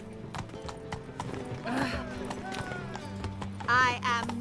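Roach, a horse in the video game The Witcher 3, gallops with steady clip-clop hoofbeats and a short whinny near the end, set against game music and ambient sound.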